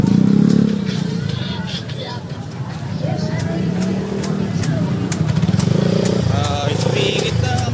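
Motorcycles rev at a busy town festival in Tanauan, Batangas, throaty engines rising and falling close by over a crowd murmur, with people talking throughout.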